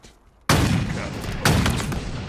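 Two loud, close sniper-rifle-like shots in Halo Infinite about a second apart, each a sharp blast followed by a long reverberant tail.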